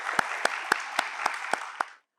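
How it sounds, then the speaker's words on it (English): An audience at a school debating competition gives a round of applause: a dense wash of clapping with sharp, evenly spaced loud claps cutting through, then an abrupt stop. "Let's give them a well-deserved round of applause."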